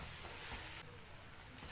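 Tomato pickle simmering in hot oil in a pan, giving a steady, close, dense sizzle and crackle that runs unbroken throughout, with no voices.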